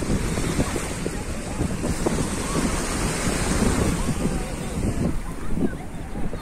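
Sea waves wash continuously onto the beach at Rabat under strong wind buffeting the microphone, a loud, unbroken roar of surf throughout.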